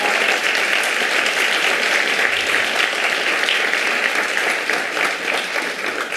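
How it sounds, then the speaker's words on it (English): An audience at a panel discussion on political representation and criminal justice reform gives a warm round of applause, a full, sustained wash of clapping that eases slightly toward the end. "Let's give her a round of applause."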